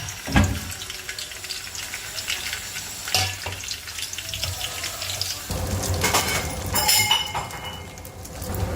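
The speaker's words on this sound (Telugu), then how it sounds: "ఆయిల్ వేసి ఫ్రై చేసుకుంటున్నాను." Dry fish frying in about two spoons of oil in a pan, a steady broadband hiss and crackle that swells and surges in bursts throughout, with no voices.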